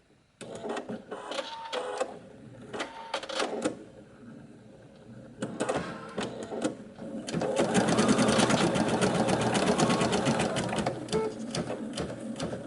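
A digital embroidery machine stitching at a deliberately reduced starting speed, with intermittent mechanical bursts early on, then a steady, loud, rapid needle rhythm running continuously, close by.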